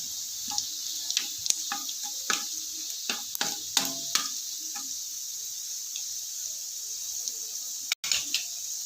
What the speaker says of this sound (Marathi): आता हलका सोनेरी रंग येईपर्यंत लसूण छान परतून घ्यायचा